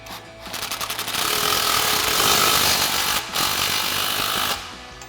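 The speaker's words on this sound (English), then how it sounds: "we're gonna snug up our clamp." Tightening a 3-inch exhaust clamp with a 15mm socket during a cat-back exhaust install on a HEMI Challenger: a loud, sustained buzzing power-tool whir, rising after a brief start, with a short dip midway and no talk.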